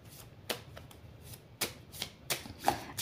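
Phoenix oracle cards being shuffled by hand for a seven-card reading: a series of quick papery riffling bursts in an irregular rhythm, close and fairly soft, with no talking.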